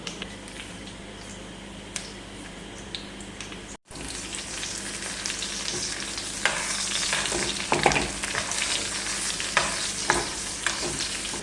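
Curry leaves crackle and sizzle as they hit hot oil with dried red chillies for an onion chammanthi, a loud, steady frying hiss with sharp pops and occasional stirring, close up.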